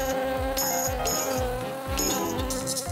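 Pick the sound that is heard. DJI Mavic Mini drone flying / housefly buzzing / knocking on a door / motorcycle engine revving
housefly buzzing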